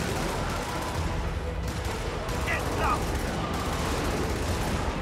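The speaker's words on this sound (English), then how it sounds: "That's not a turret. That's a that's a machine gun." Sustained machine gun fire in the video game Helldivers, a dense, loud rattle of rapid shots running the whole time, with voices talking over it.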